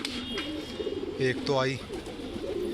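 Pigeons coo softly in low, rolling calls while someone talks over them, the cooing rising briefly between his words.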